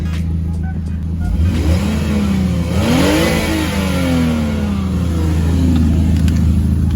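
A Lexus IS250 fitted with a new Megan Racing exhaust revs loudly and close by, the engine note climbing and sweeping through several throttle blips over a steady idle rumble.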